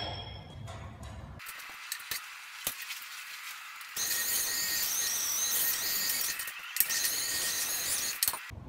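A high-pitched power tool whines and grinds against old metal horseshoes, scouring off rust and crud in bursts, with a quieter stretch before the loud, screeching abrasion resumes.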